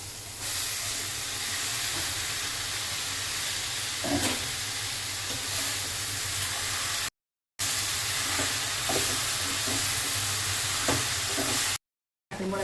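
Radish greens stirred and frying in a pan, a continuous loud hiss and sizzle with a low hum, broken by scattered scraping and clicking stirs and two brief cuts to silence.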